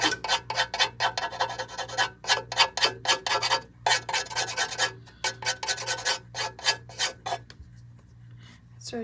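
Pizza dough being scraped, likely with a bench scraper on a work surface, in a quick series of short rasping strokes, loud and close, with no talk, slowing to a few faint scrapes at the end.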